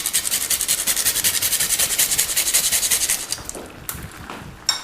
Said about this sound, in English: some freshly grated allspice over the top